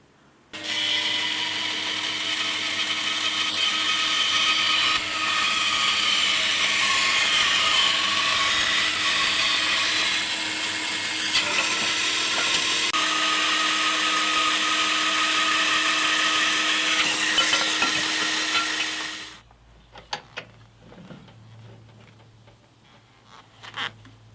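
A router cuts the saddle slot in the wood of a Sugar SG1 acoustic guitar, giving a loud, steady, high-pitched machine whine for about nineteen seconds before it cuts off, leaving faint handling noises.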